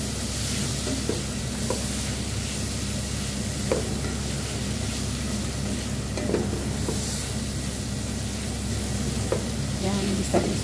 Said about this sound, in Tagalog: Ginigisa ko yung spices.